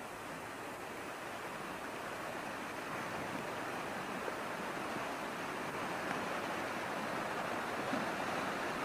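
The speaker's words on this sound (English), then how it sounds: "See loads of little waterfalls." Many small waterfalls tumble down a mountainside, heard as a steady, even roar of rushing water that holds unchanged throughout with no voices.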